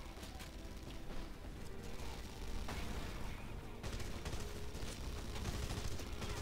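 Shotgun gunfire in Red Faction: Guerrilla amid a chaotic firefight, repeated sharp blasts and cracks layered with other shots and crashes, heard under a player's excited talking.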